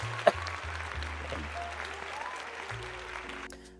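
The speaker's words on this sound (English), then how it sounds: "let's give our dear buddy a round of applause" Audience on a live call-in Dungeons & Dragons hotline stream applauding a caller: a soft, steady patter of clapping under a low electronic hum, with one sharp tap near the start.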